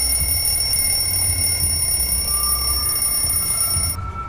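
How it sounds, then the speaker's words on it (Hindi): An alarm clock ringing from inside a box in a storeroom, a continuous shrill metallic ring held steady and loud throughout before cutting off abruptly near the end. "स्टोर रूम में रखे एक डिब्बे से अलार्म क्लॉक बजने की आवाज आने लगी"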